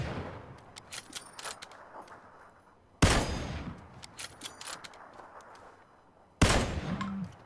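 Kar98 bolt-action rifle fire in a battle royale shooter game: three sharp, loud reports spaced several seconds apart, each trailing into echo and clatter, with no talking.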